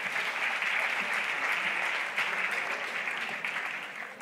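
An audience at a business conference applauds a CEO being introduced on a C-level panel, a dense, steady wash of clapping from a large crowd that holds for several seconds and tapers slightly at the end.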